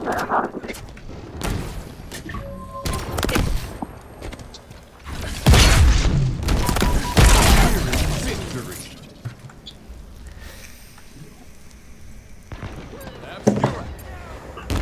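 Gunshots and explosive booms in a video game match, several sharp loud shots and heavy blasts clustered in the middle with more scattered hits around them, mixed with game sounds and a player talking over them.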